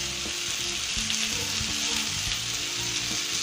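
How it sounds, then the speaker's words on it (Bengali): Chopped potato and green beans frying in a pan, a dense, loud, continuous sizzle with faint stirring scrapes and knocks underneath, close and steady throughout with no talking. "1 মিনিট ভেজে নেব সব কটা।"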